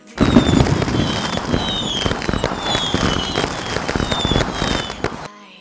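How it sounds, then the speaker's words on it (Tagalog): Loud fireworks crackle and burst continuously, with whistling rockets streaking up between the sharp bangs, close and dense. "Nagpasabog na sila ng fireworks, hindi pa naman New Year."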